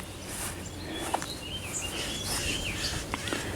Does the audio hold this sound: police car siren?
no